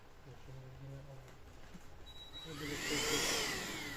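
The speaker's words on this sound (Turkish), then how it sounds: "şarj süpürgemizi kullanıyoruz" A small cordless rechargeable vacuum whines as it draws dust out of an HP Pavilion gaming laptop. The motor is faint at first, then swells louder and closer toward the end, with speech-like sounds nearby.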